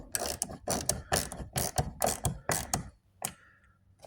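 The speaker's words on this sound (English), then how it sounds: "And then we'll come over here and just tighten these up, these 3" A ratchet tightens the side mirror bolts on a Hyundai Sonata, sounding as a series of loud, close, rhythmic clicking bursts in quick strokes with brief gaps, then a couple of fainter clicks as it finishes.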